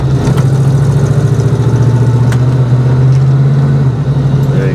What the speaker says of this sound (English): you can definitely hear the motor noise coming through the firewall now